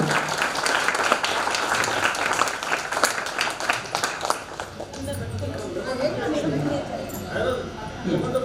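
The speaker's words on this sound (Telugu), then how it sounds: "అందరూ చప్పట్లతోటి, కింద వాళ్ళు చప్పట్లతో సన్మానం చేయవలసిందిగా కోరుతున్నాం." An audience at a school alumni gathering applauding to honour a teacher, dense clapping for about five seconds then fading into crowd murmur and talking voices.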